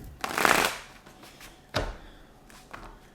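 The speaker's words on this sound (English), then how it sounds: "Let's get two more shuffles." Tarot cards being shuffled up close: a brisk riffle, then a sharp snap and a couple of softer flicks.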